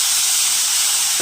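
Dried prawns frying in hot oil with a loud, steady hiss of sizzling that stays constant throughout, close and alone.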